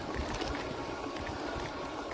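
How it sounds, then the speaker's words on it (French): Strong outdoor wind blows as a continuous roaring rush with heavy low-end buffeting against the microphone, loud and steady throughout and without talk. "mais il y a un de ces vents."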